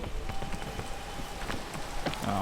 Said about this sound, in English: Oh, with the fucking rain.